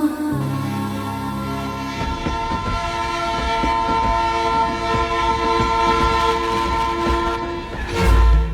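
A train rolls past close by, sounding a long steady horn over the heavy rumble and clatter of its wagons, loud and continuous throughout.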